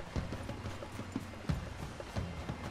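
Horse hooves clip-clop at a steady walking rhythm in the video game Red Dead Redemption 2, the hoofbeats close and even with no talking over them.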